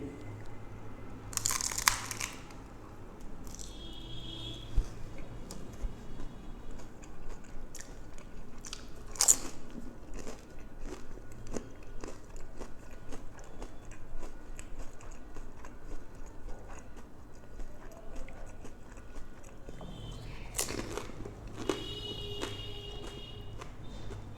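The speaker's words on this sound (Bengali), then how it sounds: "খালি ফুচকার মধ্যে ম্যাগি ভরে দিয়েছে তো খেয়ে দেখি" Crunchy fuchka shells stuffed with Maggi noodles are bitten and chewed up close, repeated crisp crunches and cracks at irregular intervals over a quiet background with no talking.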